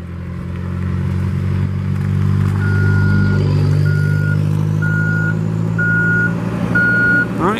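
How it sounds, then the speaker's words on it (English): A 2014 Caterpillar 420F IT backhoe loader driving in reverse: its diesel engine rumbles loudly and steadily, and five evenly spaced electronic reversing beeps sound over it. "It's a very smooth backhoe."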